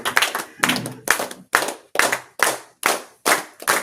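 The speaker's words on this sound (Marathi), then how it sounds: "सदानंद तारकर यांच्यासाठी जोरदार टाळ्या." A group on a monsoon outing to Lonavala claps for Sadanand Tarkar: about nine loud, evenly spaced claps in unison, a steady rhythmic beat close by, with no speech.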